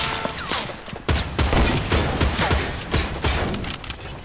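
Rapid gunfire in a Fortnite sniper shootout, dense bursts of overlapping shots cracking loudly and continuously throughout with no talk.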